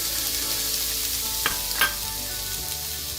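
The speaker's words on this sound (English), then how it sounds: "we're going to start sauteing our onions right away" Onions sautéing in oil in a pan on a stovetop, a steady close sizzle with a couple of brief utensil scrapes in the middle, no voices.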